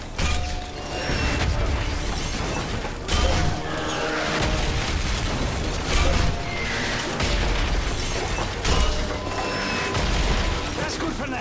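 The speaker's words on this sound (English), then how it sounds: "Keep burning the mortar!" Mortar shell explosions pound a village in the Call of Duty: Modern Warfare 3 campaign mission, heavy booms recurring every couple of seconds amid dense battle noise, gunfire and mechanical clatter.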